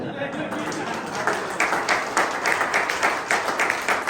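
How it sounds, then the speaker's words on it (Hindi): Congregation applause during a church sermon, a broad wash of clapping that swells with rhythmic bursts while a preacher keeps talking over it. "लेकिन तालियां यीशु के लिए ज्यादा दो"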